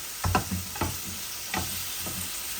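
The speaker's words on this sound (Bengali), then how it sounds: "অল্প তেল দিয়া ভাজি।" Pieces of boal fish fry in a little oil in a nonstick pan, a low steady sizzle broken by a few short bursts of louder spatter and scraping, close and quiet with no voices.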